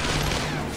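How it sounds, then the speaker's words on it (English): Rapid gunfire from the stealth video game Splinter Cell Conviction sounds as a dense, loud, continuous burst of automatic shots filling the short moment, with no talking. "Stop shooting at me."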